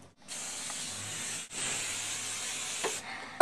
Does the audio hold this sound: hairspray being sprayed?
yes